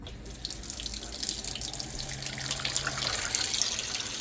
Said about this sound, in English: First thing that we're going to do is fill up our sink with cold water.